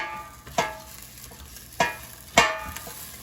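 Air-fried chicken and broccoli being tossed in the air fryer basket: three separate sharp scraping stirs spaced about a second apart, close and clear over a quiet background.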